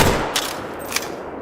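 Rifle shots in the hunting game The Hunter: Call of the Wild, one loud crack at the start followed by two sharper shots with fading echo, fairly close and without talk.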